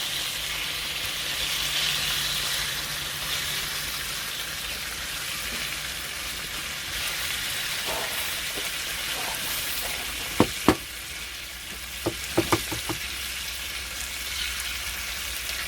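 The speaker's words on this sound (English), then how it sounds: "Let's get the eggs on" Eggs fry on a Cadac Safari Chef 30 camping stove at a campsite in Les Pieux, France, giving a soft, continuous sizzle with a few small taps and clinks toward the end.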